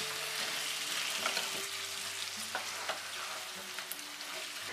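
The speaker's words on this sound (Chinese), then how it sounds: "炒匀后倒入鱼块翻炒一分钟" Fish pieces are stir-fried in a wok with sesame, salt and oyster sauce for Hakka wine-lees fish, a steady moderate sizzle broken by clattering spatula scrapes and taps.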